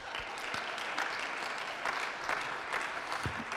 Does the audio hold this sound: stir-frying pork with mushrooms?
no